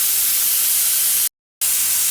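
A steady, loud steam hiss from a pressure cooker of dal for sambar whistles on, cuts out briefly, then resumes just as strongly.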